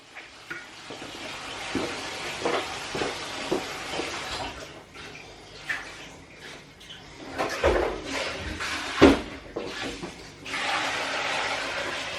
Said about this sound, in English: So I'm throwing these peas in, I'm going to cook that down slightly.